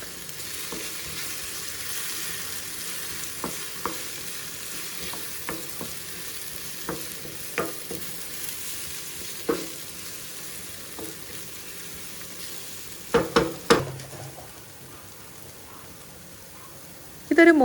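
Stirring a wheat madakkappam filling in a frying pan, with a steady sizzle throughout, a series of soft scraping strokes and a loud cluster of clatters near the end, close by and without speech.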